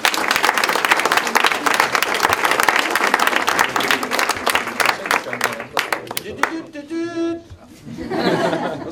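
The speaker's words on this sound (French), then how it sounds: "On l'applaudit une nouvelle fois." Audience applauding a prize winner at a scientific poster competition: dense, steady clapping from a crowd that thins out after about six seconds, followed by a short electronic jingle of ringing tones.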